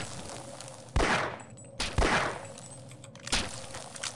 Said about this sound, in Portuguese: Uma explosão e dois tirinhos